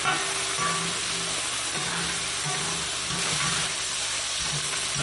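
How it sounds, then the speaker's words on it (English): Beef stir frying in an oiled wok gives a steady, loud sizzle and hiss that holds evenly throughout, with faint scraping beneath it. "Once beef added in the wok, quickly stir fry, toss them around evenly."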